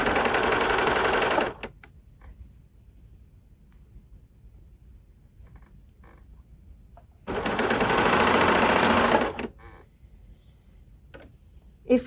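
Sewing machine stitching lace onto a t-shirt, two bursts of rapid, buzzing needle chatter, each lasting about a second and a half to two seconds, separated by a long quiet gap with faint handling sounds.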